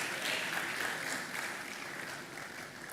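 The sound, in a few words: audience applause as a speaker takes her seat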